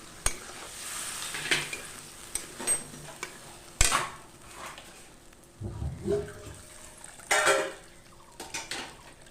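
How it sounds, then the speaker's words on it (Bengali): Water is added to a simmering fish curry with boiled potatoes in a pot, giving intermittent bursts of splashing, sizzling and stirring between quieter stretches, close up and with no talk. "এবার আমি পরিমাণ মতন জল দিয়ে দিব ঝোলে।"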